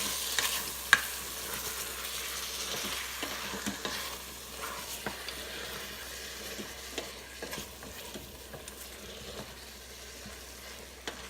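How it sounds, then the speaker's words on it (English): Food sizzles in an Instant Pot while a spoon stirs it, a soft continuous frying hiss broken by scattered scraping clicks and taps, close and fairly quiet, with no voices. "I better stir this. It's sizzling away."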